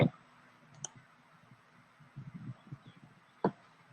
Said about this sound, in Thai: แล้วก็คลิกที่ปุ่มถัดไป